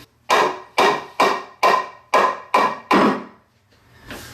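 A wooden mortise and tenon joint on a portable workbench is knocked apart with seven sharp, evenly spaced hammer blows on wood, each ringing briefly, then a softer knock at the end; close and loud, with no talk.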